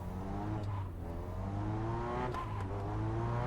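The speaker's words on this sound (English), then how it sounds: "Pay attention how quickly the car is changing from accelerating to braking." A racing car in a sim racing video game revs its engine, pitch climbing then dropping abruptly as it switches from accelerating to braking, then rising again; steady, close and continuous with no talk.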